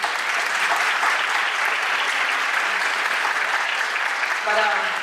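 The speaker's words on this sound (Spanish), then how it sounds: "quería un aplauso para Antonio" A school parents' association audience applauds a helper named Antonio at an end-of-year performance show, steady full clapping throughout with a brief voice rising near the end.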